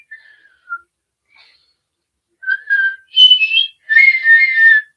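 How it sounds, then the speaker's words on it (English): A person whistles by drawing air inward. The sound starts with faint, scattered chirps, then builds into several loud, wavering tones close to the listener. "when I whistle, I inhale the air"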